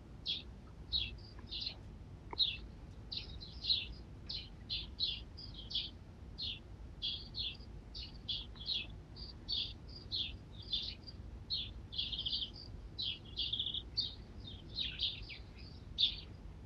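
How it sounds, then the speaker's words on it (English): A group of New Zealand birds eating plums chirps and twitters in quick, repeated bursts, fairly close and steady, over a quiet background. "There you have it, New Zealand birds eating plums."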